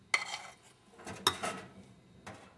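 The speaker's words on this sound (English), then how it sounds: "Just transferring our batter in our bread pan here." Cake batter is scraped from a bowl into a greased bread pan, with a few sharp clinks and scrapes of a utensil against the bowl, spaced apart and fairly quiet.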